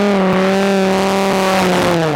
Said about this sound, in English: comes our co-presenter Nadine Geary, blowing the cobwebs out of her massive 8-litre supercharged Dodge Viper, ready for her first practice run of the day